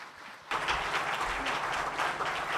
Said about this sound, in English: let's give a big round of applause to the President